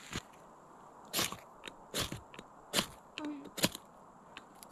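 A ferro rod is struck against a fire steel to try to light wet tinder outdoors in a forest: four or five sharp scraping strikes sound close up, spaced about a second apart, with smaller scrapes between them.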